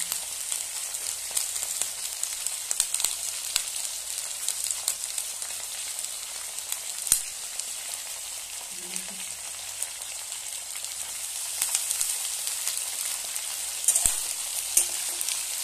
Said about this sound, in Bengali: এটাকে পেঁয়াজ কলি দিয়ে দিলাম, সব একসাথে ভাজবো আমি